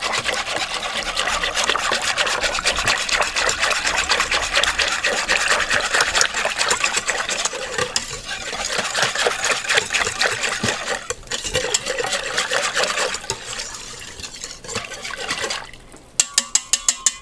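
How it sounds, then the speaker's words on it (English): Raw goat milk is whisked briskly for homemade yogurt, giving continuous rapid sloshing and wire-whisk clatter that eases toward the end, followed by a few sharp taps. "Now I have my whisk. We're just gonna whisk it up."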